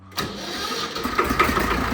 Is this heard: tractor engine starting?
yes